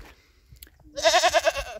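A goat on an off-grid homestead gives one loud, close, wavering bleat lasting just under a second, after a short quiet lead-in.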